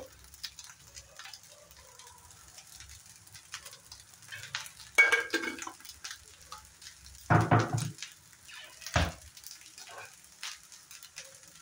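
Egg fried rice frying in a pan as it is stirred, with a steady low sizzle broken by a few loud scraping strokes of the utensil against the pan, close up and without talk.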